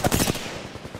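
Gunfire in an Apex Legends match, a quick burst of several rapid automatic shots up close followed by fainter repeated rounds trailing off, no talking.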